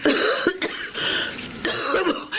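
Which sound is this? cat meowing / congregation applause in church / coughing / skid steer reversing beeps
coughing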